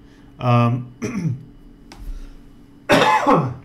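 A single sharp cough, then a brief throat-clearing burst and a second, harsher cough near the end, close and loud against a quiet room.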